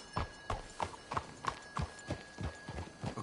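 Horse hooves clip-clop at a steady walking pace in the Red Dead Redemption 2 video game, about ten evenly spaced, moderately loud thuds over a low ambient background.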